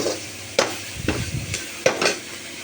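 A spatula stirs rasam ingredients in a pan on the stove, giving three or four distinct scraping strokes over a soft background sizzle, near and fairly loud, with no voices.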